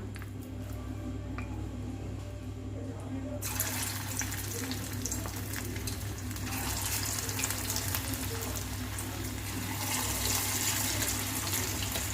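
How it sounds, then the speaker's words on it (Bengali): Pieces frying one at a time in hot oil over medium-low heat, a dense continuous bubbling sizzle that grows fuller partway through as more goes into the pan, close and steady without talk. "তেল গরম হয়ে গেছে, এবার আমি একটা একটা করে ভেজে নেব।"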